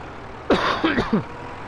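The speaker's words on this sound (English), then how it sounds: "I'm just going to clear my throat a bit there." A few rough throat-clearing rasps in quick succession, close to the mic, over a faint steady background hum.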